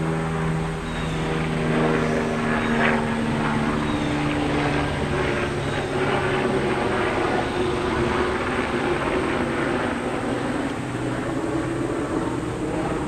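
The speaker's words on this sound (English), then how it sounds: "We're going to wait for that little plane to go by." A small propeller plane drones steadily overhead for the whole stretch, a continuous engine hum that stays fairly loud and even without fading, with no talking over it.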